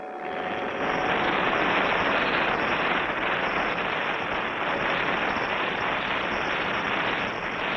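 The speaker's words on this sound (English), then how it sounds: "Your folding model airplane. Here it is, Clutch. Wind it up and let it go." A wind-up folding model airplane buzzes steadily through the air in a cartoon, a loud, continuous propeller-like drone that holds level for several seconds with no talk over it.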